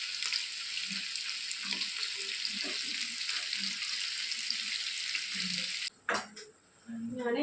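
Fish fries in a pan in a home kitchen, a loud, steady sizzle that cuts off near the end, followed by a sharp clatter and a softer hiss.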